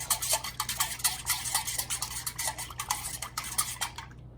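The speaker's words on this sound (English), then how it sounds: "you're going to keep stirring until that dye block completely dissolves" A utensil stirring a dye block into melted candle wax in a metal pot, a rapid, steady run of close scraping and clinking strokes against the pot, fading out at the end.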